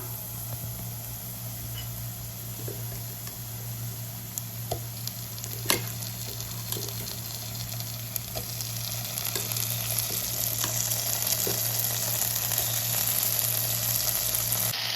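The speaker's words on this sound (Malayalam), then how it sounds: "ഇനി നമുക്ക് വേവിച്ച് വെച്ചിരുന്ന കായ ഇട്ട് കൊടുക്കാം." Cooked plantain tipped into sizzling masala in a pan for a Kerala-style nenthrakaya mizhukkuvaratti, a constant frying hiss with scattered spoon taps and stirring scrapes that grows louder toward the end.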